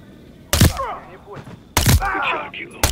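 Two loud, sharp gunshots with ringing tails about a second apart in the Modern Warfare 3 campaign, over a quiet background.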